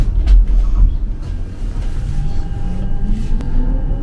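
A Munich tram rolls along rails on a new line with a loud low rumble, rattling clicks and a faint electric whine, close and continuous.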